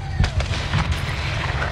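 Explosions and RPG fire in Call of Duty: Modern Warfare 2 (2022), Close Air mission, a dense run of booming blasts and crackling impacts over a constant low rumble, with voices nearby.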